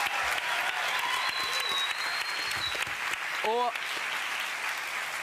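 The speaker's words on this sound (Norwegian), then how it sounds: "Gi han en applaus!" Studio audience applauding throughout on a Norwegian TV comedy talk show, a steady dense wash of clapping, with a voice speaking briefly over it near the end.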